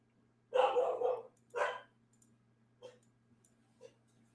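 Dog barking indoors: two loud close barks, then a few fainter, shorter yips trailing off over a low steady electrical hum, with no talking.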